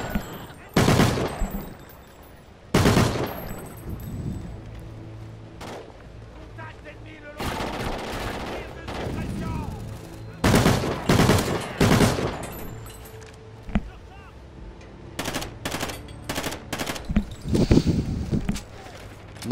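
Machine gun fire in the video game Call of Duty: Ghosts, repeated sharp bursts and single loud shots scattered across the stretch, with brief quieter gaps between volleys and some faint game background.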